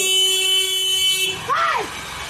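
A vehicle horn sounds one long steady blast, then a short bending toot follows, loud and close over street noise.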